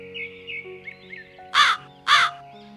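A crow in an animated story gives two loud, harsh caws close up over a faint, gentle background melody.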